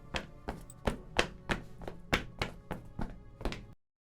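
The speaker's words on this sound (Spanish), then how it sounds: "Pican a la puerta y dentro se escuchan unos pasos que se dirigen hacia la entrada" Radio drama effect of knocking at the door of a small, humble house, a series of about ten evenly spaced hollow thuds, close and fairly loud, ending abruptly in silence.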